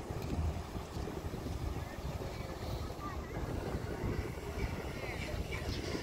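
Steady, blustery wind on the New Jersey shore rumbles across the microphone for the whole stretch, a constant low roar with gusts and no clear voices.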